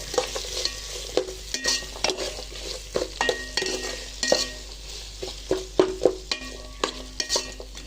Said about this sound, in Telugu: కొంచెం అల్లం వెల్లుల్లి పేస్ట్ వేసాక తిప్పాలి బాగా కలిసాను